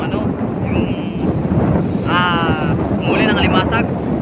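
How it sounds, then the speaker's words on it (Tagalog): Strong coastal wind roars across the microphone with surf and waves washing at a beach, a steady loud broadband rush throughout while people talk over it. "Lakas na yung alon, pati yung hangin."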